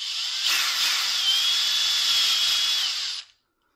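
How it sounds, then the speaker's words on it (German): A power drill with a 4 mm bit bores into wood over a wooden batten, a steady high whine for about three seconds that cuts off abruptly at the end. "Und jetzt bohre ich erstmal mit einem Vierer Bohrer"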